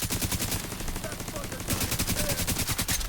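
Rapid automatic gunfire rattles in dense, continuous bursts during a firefight in the video game The Division 2, loud and close throughout, with a voice talking faintly beneath the shots.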